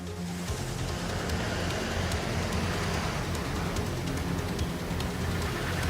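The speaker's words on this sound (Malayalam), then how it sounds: "കണ്ണൂരിൽ മലയോര മേഖലയിൽ ഉൾപ്പെടെ മഴ പെയ്യുന്നുണ്ടെന്നാണ് മനസ്സിലാകുന്നത്" Rain pours steadily in Kannur, Kerala, including the hilly areas, a dense, even hiss with scattered drops tapping on surfaces and no voices.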